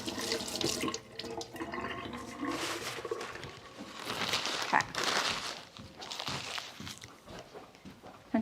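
Water pours steadily from a small outdoor sink tap, a close, continuous splashing stream with a few clattering knocks and shifting movement around it.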